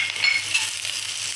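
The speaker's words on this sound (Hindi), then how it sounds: "अब इसको हल्का सा हमने भून लेना है, ब्राउन नहीं करना, बस हल्का सा।" Garlic and green chillies fry lightly in a pan with a soft, steady sizzle and occasional stirring scrapes, close and fairly quiet.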